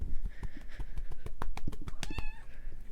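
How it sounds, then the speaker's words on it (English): A pet cat meows in a busy indoor room, several short cries close by amid rustling and knocking noises, with no talk over them. "Cat moment."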